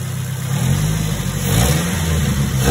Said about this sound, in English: let's do a little bit of a rev test just to see how she sounds.